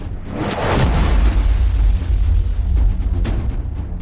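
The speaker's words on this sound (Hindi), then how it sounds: "रोशनी का एक धमाका सा हुआ और पूरी बर्फ पिघल गई।" A loud, booming explosion effect in a fantasy audio drama: a deep, rumbling blast swells quickly and sustains with a roaring low-end tail before fading.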